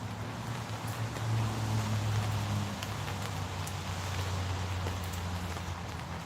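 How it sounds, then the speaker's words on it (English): Steady rain falling outdoors, a continuous broadband patter of drops on surfaces with a low hum running underneath, fairly even throughout with no voices. "You guys can hear the rain."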